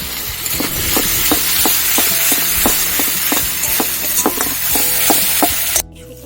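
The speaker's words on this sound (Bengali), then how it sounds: "দেখো লঙ্কা গুঁড়ো দিয়ে দিয়েছি, এবার ভালো করে ভেজে নেব।" Snail curry masala with Kashmiri chilli powder sizzles steadily in a pan while a spoon scrapes and stirs it in regular strokes, loud and close, with no talk, ending abruptly near the end.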